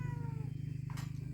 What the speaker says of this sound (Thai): โอ้แมวก็มากินน้ำแมว